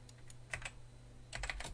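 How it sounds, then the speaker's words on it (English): Quiet typing on a computer keyboard, two short clusters of soft key clicks separated by a brief pause, close but faint against a low steady hum. "if we type"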